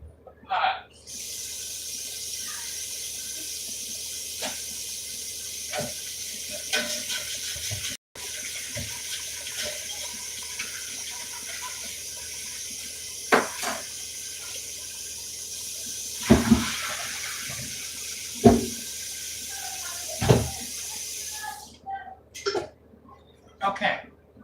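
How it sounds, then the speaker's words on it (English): Tap water runs steadily into a cooking pot being rinsed at a kitchen sink while making chili, a continuous close hiss broken by clunks and knocks of the pot, then cut off near the end. "Then we're going to go ahead and rinse out the pot."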